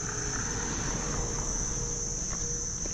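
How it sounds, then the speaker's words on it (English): Insects buzzing in dense jungle on Langkawi, Malaysia: a steady, shrill, unbroken drone that holds at one pitch throughout, with faint low rumble beneath. "You hear the bugs? I mean, this is a dense jungle on each side of us."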